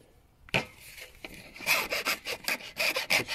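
A hand file rasps across the freshly cut square end of a PVC pipe, a single stroke followed by a quick series of short, close scraping strokes in a quiet room.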